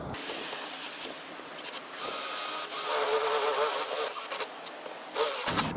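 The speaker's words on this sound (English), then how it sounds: "Now I'm going to drill it." A power drill boring a hole through a vehicle panel with a drill bit for a backup camera grommet, a continuous whirring grind that shifts in pitch mid-way, loud and close with no talk.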